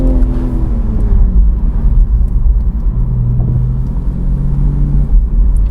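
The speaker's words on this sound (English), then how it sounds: "as it's getting hotter, it's making more overrun noise as well." A BMW Z4 M40i (G29) fitted with an Eventuri intake makes overrun noise as the engine warms, a loud, steady low rumble and drone with gently shifting tones heard close up, with no talking.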